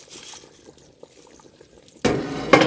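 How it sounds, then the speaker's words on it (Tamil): Water boiling in a pot for turkey biryani, soft bubbling and popping at first, then a louder burst of splashing liquid in the last second. "தண்ணி 25 நிமிஷம் இந்த உலை கொதிக்குதுங்க"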